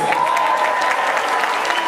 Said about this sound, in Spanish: Un aplauso a los hombres.